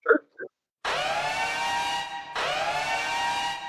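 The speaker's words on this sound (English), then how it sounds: "the first one is the base alarm" Base alarm sound effect for a Power Rangers tabletop RPG: a loud, harmonically rich siren-like blare that sounds twice, about 1.5 seconds each with a brief gap, following a couple of faint soft blips at the start.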